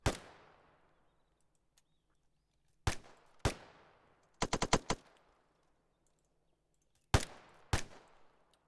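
Video game rifle fire from a DMR marksman rifle rings out in sharp separate cracks with long decaying tails, single shots and a quick burst of four, loud against an otherwise quiet background.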